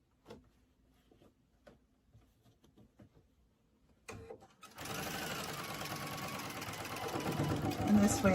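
A few quiet clicks and knocks, then a sewing machine starts up and stitches steadily with a fast, even mechanical whir that grows slightly louder.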